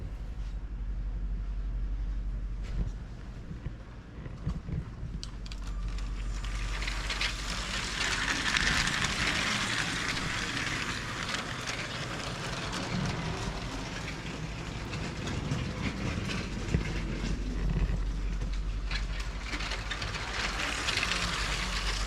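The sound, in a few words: battery-powered model trains running on track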